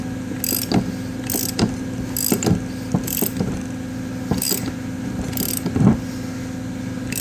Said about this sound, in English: I'm doing this with a just a 1/2 inch ratchet.